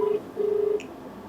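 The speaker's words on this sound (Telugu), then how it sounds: "మీ అనుమతితో నేను శ్వేతకి ఒకసారి ఫోన్ కలుపుతాను." Telephone keypad dialing on a call, with two clear beep tones, a short one and then a longer one, followed by a fainter blip over quiet background hum.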